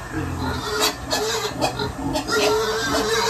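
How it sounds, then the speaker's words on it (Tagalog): Several pigs grunting and squealing up close at feeding time, a noisy overlapping chorus of oinks in bursts, with a person's voice faintly mixed in. "Pakain ng baboy ni Maria."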